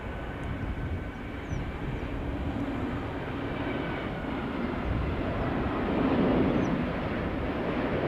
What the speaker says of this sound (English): The A350 has landed.